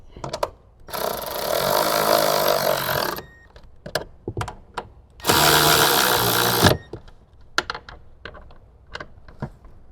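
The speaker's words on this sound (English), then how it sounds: "we'll tighten them down with our 12mm socket" A 12mm socket wrench tightens bolts on a seat bracket inside a Toyota Tacoma, heard as two sustained, close ratcheting bursts of a few seconds each, with sharp clicks and taps of the tool and metal scattered around them.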